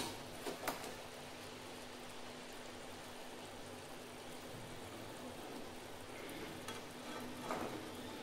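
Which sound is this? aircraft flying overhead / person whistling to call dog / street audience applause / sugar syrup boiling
sugar syrup boiling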